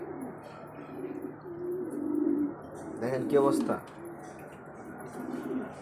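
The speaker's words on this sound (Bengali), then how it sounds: "এটা আমার খুব পছন্দের কবুতর, আমার লফটের শ্রেষ্ঠ কবুতর" A pigeon in a loft gives a few close, throaty coos with a rising, rolling pitch, while someone talks nearby.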